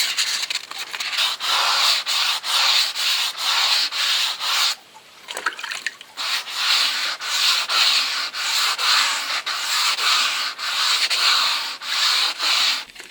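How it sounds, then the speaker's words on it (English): Rhythmic wet sanding of car clear coat with 600-grit sandpaper, back-and-forth scrubbing strokes with a gritty hiss, steady and close, with a brief pause midway. "I have got 600, which I'm now going to be wet sanding"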